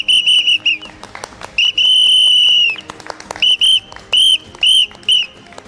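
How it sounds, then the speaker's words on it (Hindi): A whistle, the election symbol of a new political party in Murshidabad, West Bengal, is blown loudly and close by in a run of short shrill blasts around one long sustained blow. "जरा बजा कर दिखाइए इस बार जीत की कितनी सीटी बजा रहे हैं"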